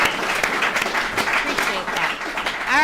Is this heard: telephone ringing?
no